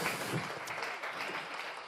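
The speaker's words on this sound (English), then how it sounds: "ladies and gentlemen, another big round of applause for Eric Van Beek, Netherlands." Audience at a bartending competition semi-final applauding, a steady spread of clapping heard at moderate distance for a couple of seconds.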